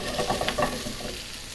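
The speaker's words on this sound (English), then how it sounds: "now I'm going to throw in those peppers. Nice little sizzle" Peppers for a sweet and sour agrodolce hit an oiled pan after browning, giving a steady, close frying sizzle with a brief stirring clatter near the start, then settling into a constant hiss with no talking.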